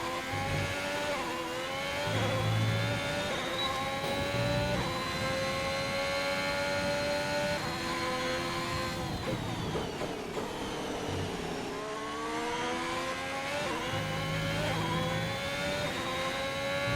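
An F1 race car engine in the F1 2021 video game screams through repeated rising gear sweeps, pitch climbing and dropping at each shift, loud and continuous with no voices over it.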